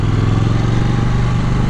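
A KTM Duke 790 motorcycle engine hums in a steady, loud, continuous drone as the bike is ridden, with no voices.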